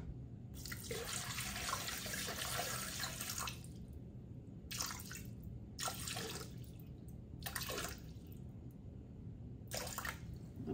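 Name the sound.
pouring lukewarm water for dough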